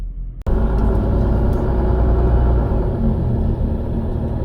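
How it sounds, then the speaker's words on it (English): Street traffic in Bremen, a heavy continuous rumble of passing cars and what sounds like a bus engine, loud and close, with no pauses. "Having a lot of traffic today on the streets here in Bremen."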